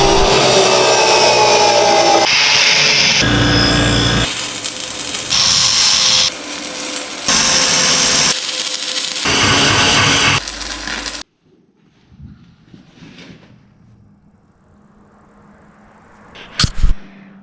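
Metal pieces are cut with a loud power tool for welding a metric car chassis, steady harsh grinding in several bursts over about eleven seconds, then near silence with faint clanks and a sharp clatter at the end.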